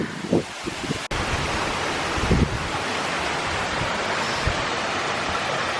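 A waterfall in Death Valley pours in a steady, loud broadband roar beside a pool, with a few brief knocks and wind-like bumps over the constant rush.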